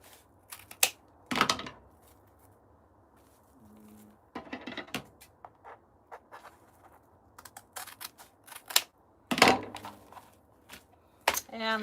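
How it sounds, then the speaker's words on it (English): Heavy-duty scissors snip through a roll of decorating material for Valentine's Day crafts, giving quiet, close, crisp cuts in irregular bursts with soft rustling between them. "this is where some good heavy-duty scissors come in handy"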